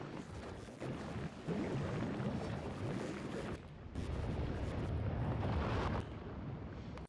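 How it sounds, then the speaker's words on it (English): A rocket lifts off in the factory-building game Factorio, a dense, roaring rumble with windy hiss that holds steady for several seconds, briefly dips, then surges again before tapering off. "Okay, the rocket is going."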